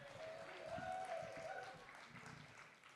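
Audience applause for a poet at a Boston poetry reading, faint scattered clapping mixed with crowd murmur and a few voices.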